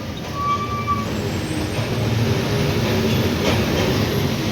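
A heavy truck loaded with cotton bales moves and shakes, giving off a continuous low rumble and rattle with a faint high whine on top, steady and close throughout.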